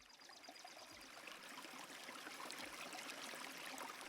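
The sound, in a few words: river suddenly starting to flow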